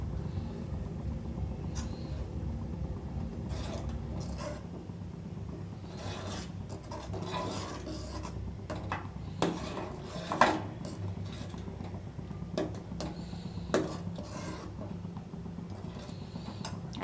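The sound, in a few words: stirring chhana in a pot while adding chhana-cutting powder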